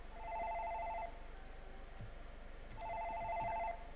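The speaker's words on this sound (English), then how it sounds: "It's the phone." A telephone rings in a Let's Play of a video game, with two bursts of trilling electronic ringing separated by a short pause, clear over a low background.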